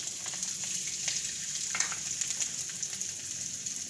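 Cloves, cumin seeds and ginger sizzle in hot oil for a pea and bottle gourd curry, a steady close crackling fry with a few light stirring clicks and no talk.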